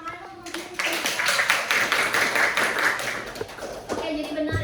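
Classmates clapping for a student in a classroom, a short burst of scattered hand claps that swells and then fades after a few seconds, with brief voices around it.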